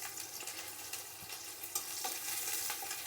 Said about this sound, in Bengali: রসুনটা ভাজা হোক।